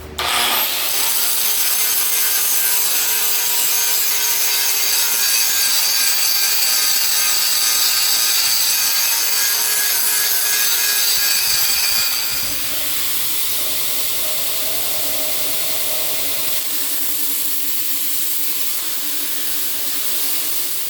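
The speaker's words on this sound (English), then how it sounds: "Time to clean up all this scale, grind it off, and clean it up on the grinder." Belt grinder grinding forge scale off a copper damascus hunting knife blade, a loud, steady abrasive whine that runs without a break, its pitch dropping partway through as pressure on the blade changes. No one speaks.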